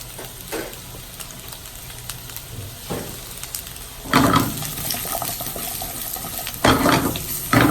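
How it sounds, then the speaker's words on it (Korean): Stock pours into a pan of glass noodles fried in oil, making a steady watery rush with sizzling that swells in two louder surges near the end. "전체적으로 당면이 기름에 볶아서 코팅이 돼서 윤기가 나면 육수를 붓습니다."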